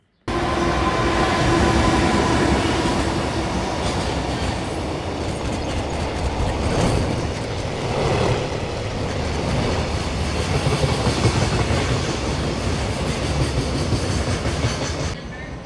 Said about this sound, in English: Okay, there's a train coming.